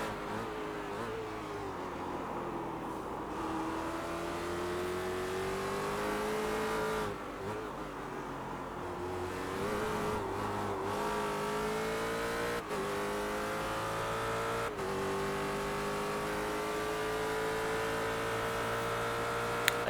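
A Ford GT race car engine at Sebring in the sim racing game iRacing, loud and sustained, with rising and falling pitch as it accelerates and shifts through gears, brief dips between upshifts and no talking.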